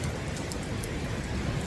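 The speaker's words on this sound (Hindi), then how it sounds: "यहाँ पे बारिश हो रही है" Rain falls steadily outside a cottage at Heritage Huts in Naran, a dense, even hiss of drops with no pauses or voices.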